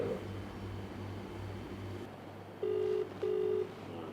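A phone call rings out as two short, evenly pitched electronic tones over a steady background hum, fairly close and clear with no voices.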